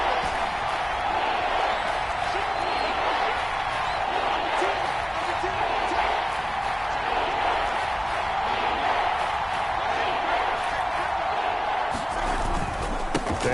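Steady, dense stadium crowd roar from a PS4 American football video game, a continuous loud wash of cheering that holds for the whole stretch, with a game commentator talking over it.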